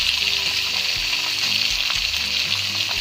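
Spinach stir-fried with sugar and mushroom sauce in a pan sizzles loudly and steadily, while a utensil scrapes and tosses the greens in regular strokes roughly every half second.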